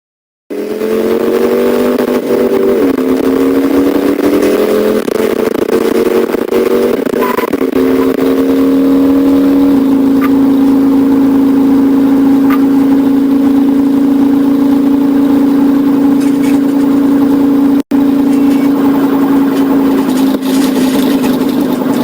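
A car engine with a 5.0 revs hard in pursuit of a motorcycle: a loud, close, sustained mechanical roar whose pitch climbs and shifts through the first ten seconds, then settles into a steady high drone.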